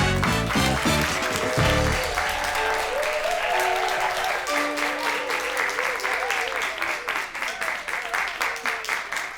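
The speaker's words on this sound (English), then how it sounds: "Please give them a big round of applause." Audience applause at a live talk show event, a dense wash of clapping that stays loud throughout and thins slightly toward the end, with a voice speaking briefly over it near the start.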